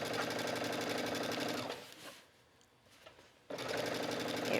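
A sewing machine runs rapidly while stitching the waistband of an A-line skirt. The steady mechanical whir stops for about two seconds, leaving only faint handling noise, then starts up again just as loud and close.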